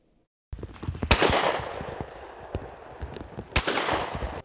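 Sharp shotgun reports at an outdoor clay pigeon shooting tournament, two loud close blasts with lingering echo and a few fainter distant shots between them, no voices.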